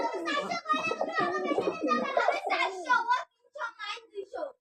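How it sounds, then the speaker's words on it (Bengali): Mili pigeons and red and black border pigeons coo close by in a loft, their low throaty calls overlapping with nearby voices for most of the stretch. "কালো বর্ডার কবুতর আছে এখানে অনেক এখানে একটা লাল বর্ডার নট দেখেন"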